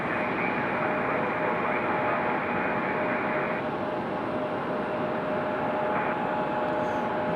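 An Endeavor CRJ 900LR regional jet arriving at Raleigh-Durham airport, a steady loud broadband jet roar with a faint tonal whine, continuous throughout without pause.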